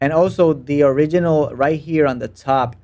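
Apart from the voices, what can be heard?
None of the usual background noises is heard.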